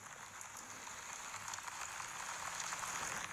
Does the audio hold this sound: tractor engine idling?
no